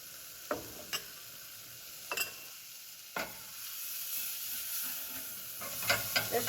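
Taco seasoning is stirred into a sizzling pan with steady frying hiss and several sharp utensil taps and scrapes against the pan, close up, with no talking.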